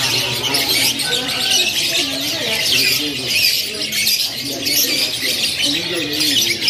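Canaries at a kiosk in Pramuka bird market, Jakarta, filling the air with dense, continuous high chirping and trills, with voices murmuring in the background.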